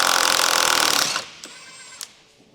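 Electric impact wrench with a 19mm deep socket removing the rear lower control arm bushing bolt on a 2007-2013 Acura MDX: a loud, continuous rattling hammer for about a second, then two brief, fainter bursts.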